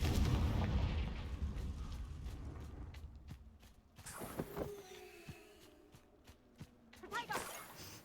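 Spell blasts in the Hogwarts Legacy video game: booming explosive impacts and creaking mechanisms ring out amid game effects, with a bursting hit near the middle and more crackling blasts toward the end, while a voice speaks over parts of it.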